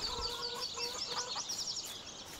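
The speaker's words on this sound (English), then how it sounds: "chickens" Chickens cluck and chirp in quick, bright bursts in Farming Simulator 19, a faint, short flurry of game-farm poultry calls.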